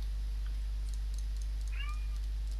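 A cat gives a couple of short meows, one faint and one clearer, over a low steady hum in a quiet room.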